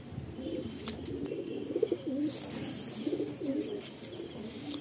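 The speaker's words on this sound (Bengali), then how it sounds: "সব থেকে পুরাতন পায়রা গিরিবাজ পায়রা" Giribaz pigeons, an old homing breed kept in a Kolkata Sonarpur loft, coo in soft overlapping rolling calls, close and continuous, with faint chirps and a rustle of wings behind them.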